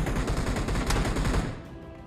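Close, loud gunfire in a solo first-person battle royale match, dense bursts of rapid shots filling most of the stretch and easing off near the end.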